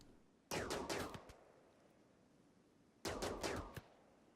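Gunfire in RimWorld, heard as two separate short volleys of sharp cracking shots several seconds apart, each a quick cluster of reports, with quiet between them and no talking.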